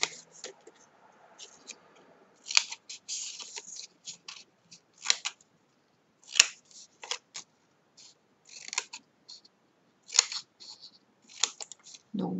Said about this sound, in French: on coupe les languettes, on coupe aussi légèrement en biseau